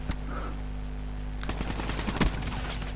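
Rapid automatic gunfire in the video game Call of Duty: Black Ops III, a dense rattling burst of shots over steady game background noise, loud and close, with no voices.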